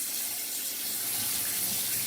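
Sea moss being rinsed under a running kitchen tap, a steady close rush of water splashing into the sink with no pauses.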